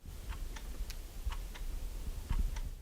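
A steady clock ticks about three to four times a second, faint and even, with a low rumbling hum underneath, in an underground shelter in wartime Donetsk region, Ukraine.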